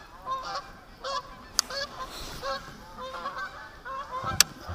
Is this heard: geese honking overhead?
yes